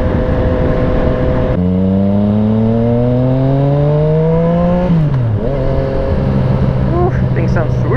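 A Yamaha FZ-09 motorcycle with an Arrow exhaust and the dB killer removed revs up loud and close in a long rising pull, drops back, then settles into a rumbling idle with a few blips.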